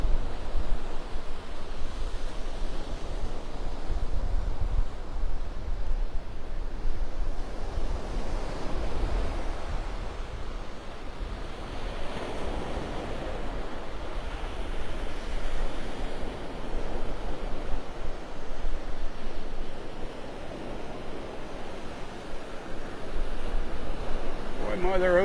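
Rough ocean surf breaks on the beach at Delnor-Wiggins Pass State Park in Naples, Florida, a loud continuous roar of crashing waves mixed with wind buffeting the microphone.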